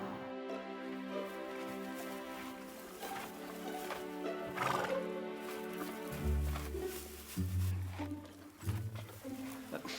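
A horse whinnies and its hooves clip-clop at a rural Marceline farm, the neighing fairly close over a steady background, with voices murmuring nearby.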